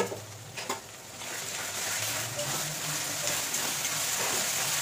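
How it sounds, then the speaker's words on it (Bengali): Ginger, green chilli and garlic paste sizzling in a pan for mutton kosha, a continuous close frying hiss with a couple of brief clatters near the start. "আদা আর কাঁচা লঙ্কা আর রসুন বাটা দিয়ে নিলাম"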